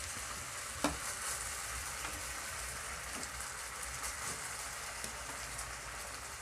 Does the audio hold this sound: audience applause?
no